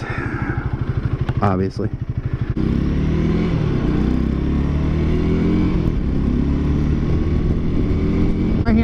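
A Honda Rebel 300 Hellfire with a Slipstreamer windshield is ridden in cold weather, its engine droning steadily with loud wind rush and a shift around the second or third second, while a rider speaks briefly over it.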